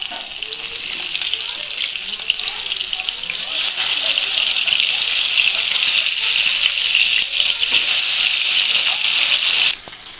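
Fish fries in hot oil in a wok, giving a loud, steady hiss and crackle for about ten seconds that cuts off abruptly near the end, with a faint voice now and then underneath.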